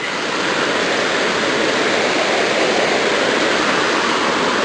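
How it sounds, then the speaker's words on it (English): A river rushes at the Dry Creek crossing where the old bridge washed out: a loud, steady broadband roar of flowing water, close and unbroken, with no voices. "So here comes the river."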